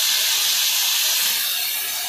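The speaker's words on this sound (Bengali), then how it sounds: "এরপর আমি সরষের জলটা হালকা করে দিয়ে দেবো" Mustard water is poured onto okra frying in a pan, producing a loud, close, continuous sizzle and steamy hiss that eases slightly toward the end.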